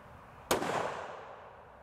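A single sharp rifle shot from a CVA Cascade XT firing Hornady whitetail ammunition at an outdoor range, a loud crack followed by a long fading echo.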